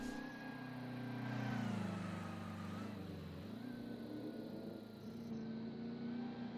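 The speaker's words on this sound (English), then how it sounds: "You can hear another car though, that might be Nurmi." A 1935 racing car on the Targa Florio road course, its engine droning steadily at moderate distance, pitch rising and falling slightly as it passes, with no voices over it.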